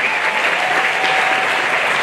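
A gala audience at the West Seattle Food Bank claps for board members. The applause is dense and steady throughout, with no pause.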